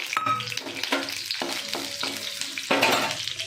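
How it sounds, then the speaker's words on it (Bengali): Whole garam masala spices frying in white oil in a pan, a steady crackling sizzle with stirring scrapes every half second or so, close and moderately loud, no voices. "একটু তার মধ্যে সাদা তেল দিয়ে আমি গোটা গরম মশলাগুলো দিয়ে দিলাম।"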